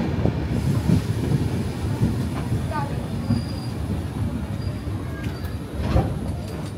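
The 12857 Tamrolipta Express runs from Howrah toward Digha near Ramnagar, a steady rumble of wheels on rail with rhythmic clatter and brief high squeals from the wheels, heard from on board, with no talking.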